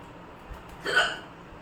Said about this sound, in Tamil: ஆனா விக்கல் வந்துட்டே இருக்கு.